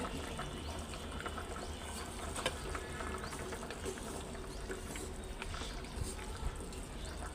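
Fried fish slid into a pan of simmering curry sauce, giving a steady bubbling, sizzling wash of liquid noise that holds evenly throughout at moderate level, with no clear talk.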